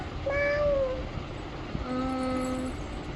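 A cat meows twice, close and clear. A short rising meow is followed by a longer, lower one after a brief pause, over a faint steady background hiss.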